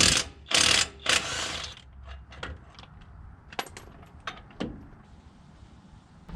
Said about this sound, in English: there's going to be two 21mm bolts on here. You're going to want to remove those to remove your brake caliper.